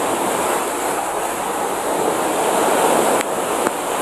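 Big sea waves surging steadily against a seawall, a loud continuous broadband roar with a couple of brief sharper splashes near the end, heard up close with no voices.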